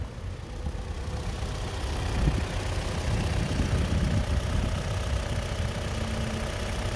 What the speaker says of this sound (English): And that engine is running great,